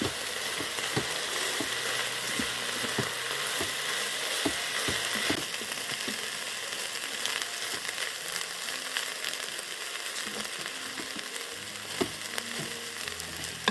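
Rice pilaf with chicken is stirred in a multicooker, with soft sizzling under repeated dull scraping and knocking strokes of a spoon, close and steady, with no voices.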